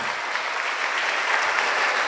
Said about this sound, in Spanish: ¿Cuántos damos aplausos al Señor, hermanos?